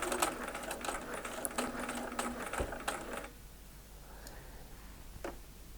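A sewing machine stitches the Y seam of an eight-point star quilt block in a quick run of close, rapid needle ticks lasting about three seconds, then stops and leaves quiet room tone with a faint click.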